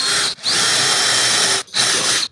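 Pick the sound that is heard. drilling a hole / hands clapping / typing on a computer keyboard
drilling a hole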